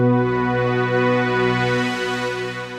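A sustained synth pad chord drones steadily, rich and full, slowly swelling and shifting in brightness without any break.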